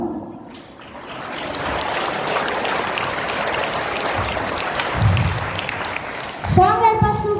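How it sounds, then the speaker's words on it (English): Students and guests at a 2025 Ambedkar Jayanti celebration applaud a student's speech in a burst of crowded clapping lasting several seconds, which fades as a voice begins to speak. "Let's encourage him with a huge round of applause."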